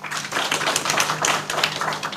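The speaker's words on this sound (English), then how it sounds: "Please, let's clap with a lot of strength" A seated audience at a Kenyan Ministry of Agriculture briefing on food systems claps vigorously, a steady dense patter of many hands close by with almost no talk.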